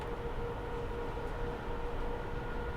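A Class 411 Southeastern electric train from Train Simulator Classic runs at speed with a steady, dense rumble and a faint sustained whine, unbroken throughout.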